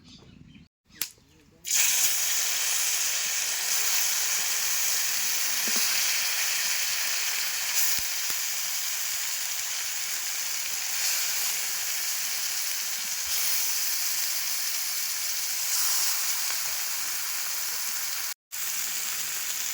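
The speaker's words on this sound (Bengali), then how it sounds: "অল্প একটু সর্ষের তেল দেয়া কড়াইতে ভালো করে কড়া করে গরম করে নিছি এবার মাছগুলো দিয়ে দেবো" Pangas fish pieces fry in hot mustard oil in a wok, a loud continuous sizzle and hiss starting after a brief pause near the beginning and running steadily with small crackles until a short cut near the end.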